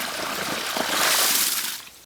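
Water from a fish pond farm runs through gravity-fed pipes toward drip lines, giving a steady close-up rushing and trickling stream that swells slightly midway and stops abruptly at the end.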